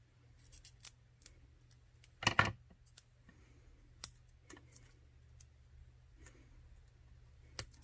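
Scissors snipping foam tape while decorating a cover, a sharp close cut in the middle among faint scattered clicks and ticks in a quiet room.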